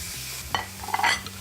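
Chicken skin frying in olive oil in a frying pan, a soft steady sizzle joined by a few sharper crackles and a brief scrape of the pan.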